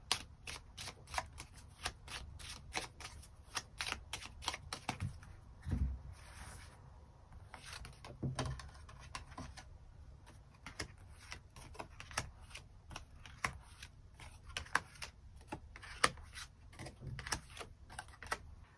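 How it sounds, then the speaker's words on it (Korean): Tarot cards being shuffled and drawn, a long stretch of dense, crisp riffling and slapping card sounds in quick irregular bursts, close and fairly quiet, with a short lull partway through and no talking. "추가 카드로 일별로 월요일부터 일요일까지 어떤 하루하루를 보내게 될지 추가 카드 뽑아보도록 하겠습니다"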